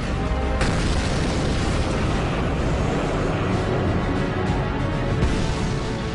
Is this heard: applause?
no